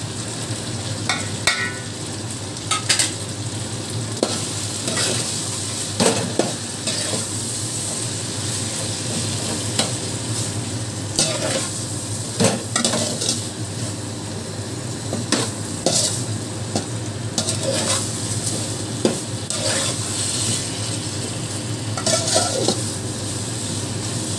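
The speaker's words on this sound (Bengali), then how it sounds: "মশলাগুলো দিয়ে নাড়াচাড়া করে নিলাম" Spices with salt, turmeric and sugar stirred in a frying pan while making dal gota, a steady sizzle broken by repeated scraping stirs of the spatula, close and fairly loud, with no talking.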